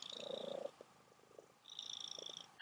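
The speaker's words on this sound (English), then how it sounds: "I have a noisy kitty." A pet cat purrs close by in two steady rumbling bursts separated by a short pause, with no voices present.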